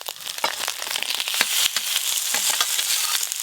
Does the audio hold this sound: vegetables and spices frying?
yes